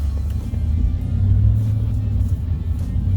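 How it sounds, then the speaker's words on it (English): A Ford F-150 Raptor truck setting off, its engine giving a loud, close, low rumble that rises slightly as it pulls away and holds steady, with no talk. "All right, setting off in the Raptor."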